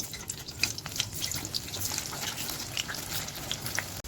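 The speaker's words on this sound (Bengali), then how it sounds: "সোনামুখী কড়াই তেল দিলে হচ্ছে আলু ভাজা হবে। আলুটাকে লাল লাল করে ভেজে নেব।" Potatoes frying in hot oil in a wok, giving a steady close sizzle with scattered crackles and pops for about four seconds, with no voices.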